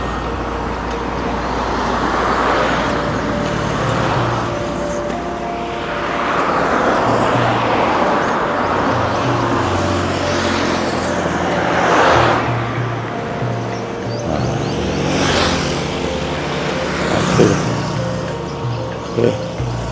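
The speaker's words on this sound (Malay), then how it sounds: "Kereta berderet." Cars roll past one after another along a village road in Terengganu, a continuous loud traffic rumble with repeated swelling pass-bys, some nearer and louder than others.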